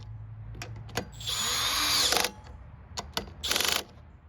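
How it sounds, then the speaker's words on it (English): A power drill on its lowest clutch setting whirs in two short bursts, tightening a carburetor bolt on a Honda lawn mower, with metallic clicks and ratcheting between them, close up and fairly loud. "that bolt was able to catch, but that was with the drill's clutch set to the lowest possible setting"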